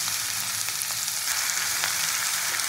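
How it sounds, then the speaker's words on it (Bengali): Mushrooms frying lightly in oil give a close, continuous, even hiss of sizzling with faint crackles throughout, and no voices. "এবার আমি একই তেলে আমি মাশরুমটাকেও একটু ভেজে নেব হালকা করে।"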